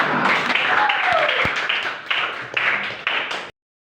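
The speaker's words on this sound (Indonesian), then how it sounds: "Oke, tepuk tangan buat Sela." Students in a classroom clap for a classmate named Sela, a brief burst of scattered hand claps with a few sharper individual claps and voices mixed in, stopping abruptly.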